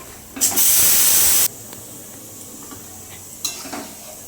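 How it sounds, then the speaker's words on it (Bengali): Water poured into thick, sticky chutney cooking in a pan hits with a loud, bursting hiss that lasts about a second, then falls back to a quiet simmer, with a shorter hiss and a light clink near the end. "বেশি আঠা হয়ে গেছে, জন্য একটু জল দিয়ে দিলাম।"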